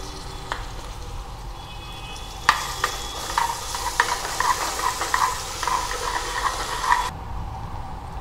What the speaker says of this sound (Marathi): मी आलं लसणाची पेस्ट टाकून घेत आहे गॅस थोडा कमी करून घेते आहे